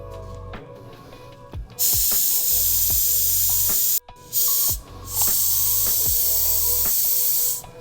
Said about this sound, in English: So now we're gonna grab our compressed air and then seat the tire on there.